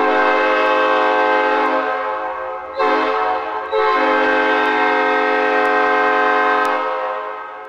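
A straw flute gives a loud, steady, reedy blare like a train horn, held for several seconds with two short breaks near the middle, heard alone and up close.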